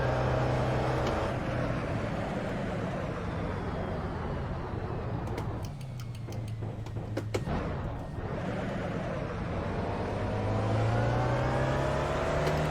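A car engine in a video game drones and revs steadily, dipping briefly then rising again, with a whirring mechanical tone throughout, after the car's transmission has blown.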